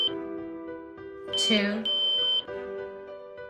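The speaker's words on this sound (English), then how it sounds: "Each time you press a button, there will be one beep and the back LED will blink green." A Samsung biometric fingerprint digital door lock's keypad sounds a single electronic beep with each button press, a bright steady tone rising and stepping between presses while a person speaks nearby.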